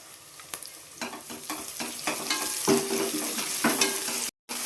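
Fenugreek and mint leaves fry in hot oil in a pan for chicken biryani, giving a steady close sizzle broken by scraping stir strokes and brief clicks, with no talking.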